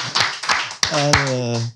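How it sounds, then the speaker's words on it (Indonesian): Studio audience applause on an Indonesian talk show with a veteran rapper as guest, a burst of clapping in the first second that gives way to a host speaking over the fading claps. "Boleh tepuk tangan lagi deh buat ini."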